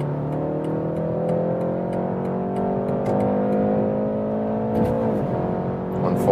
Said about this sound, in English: that's really nice sound for a 4-cylinder engine